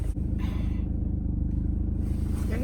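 A car engine idles roughly with a steady, uneven low rumble and faint rattling, close by and continuous.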